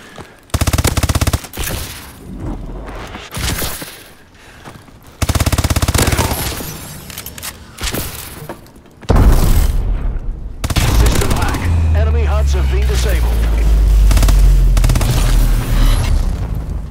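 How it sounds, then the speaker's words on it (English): Video game bombing run in a first-person shooter session: bursts of gunfire and booming explosions come in heavy waves, building to a loud, sustained rumble of blasts near the end. "Bombing run clearing the way."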